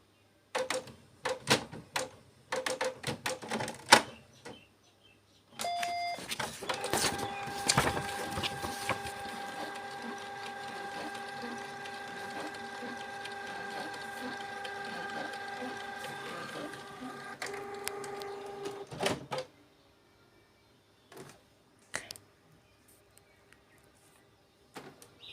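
A Canon MX474 inkjet printer running and shutting down, with scattered clicks and clunks, then a sustained mechanical whir with steady tones for about fourteen seconds that stops abruptly, followed by a few faint clicks.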